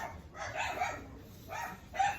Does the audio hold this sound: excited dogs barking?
yes